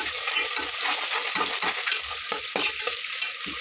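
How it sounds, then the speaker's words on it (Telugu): Ginger paste frying in hot oil in a pan for chicken haleem, a steady close sizzle with scraping stirring strokes throughout. "నేను ఇప్పుడు ఇప్పుడు నూనె వేసాను అల్లం పేస్ట్ ఒక స్పూన్ అల్లం పేస్ట్ దాకా వేసాను"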